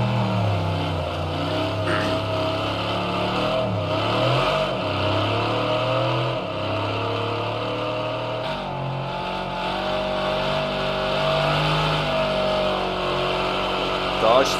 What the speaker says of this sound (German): Da war ein schön langer Drift.